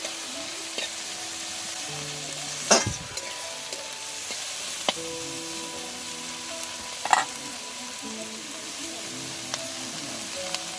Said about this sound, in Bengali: একটু লাল লাল করে আমি পেঁয়াজটাকে ভেজে নেবো